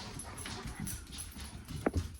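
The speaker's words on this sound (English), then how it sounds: "Look at the pups." A dog whimpers and pants close by, with short breathy puffs and a thin high whine near the end over a quiet indoor background.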